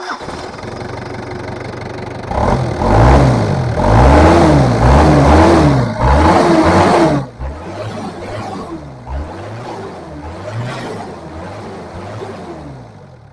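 An engine running after its fuel pump timing has been advanced, revving hard in loud bursts for several seconds, then dropping to a rhythmic, pulsing idle.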